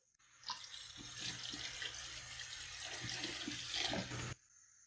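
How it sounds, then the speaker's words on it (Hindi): Water pours steadily into a cooking pot of beef achar gosht for several seconds, a splashing rush that stops abruptly, heard up close with no talking. "अब हम इसमें 2 गिलास पानी शामिल कर देंगे।"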